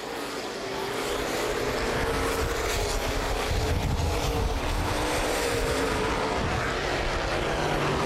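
Race cars roar around the oval at Baer Field Speedway, a loud continuous blend of several engines at full throttle, swelling and fading as the pack passes.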